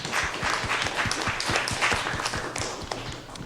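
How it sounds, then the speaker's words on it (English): People at a school district governing board meeting applaud a recognized honoree, dense clapping with a few regular heavier claps, lasting a few seconds. "How about a round of applause for Mr. Almquist?"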